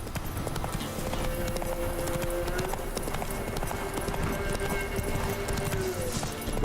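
Horse hooves clip-clop at a steady walking rhythm in The Witcher 3 video game, the horse Roach trotting along under continuous game music and ambience, moderately loud and close.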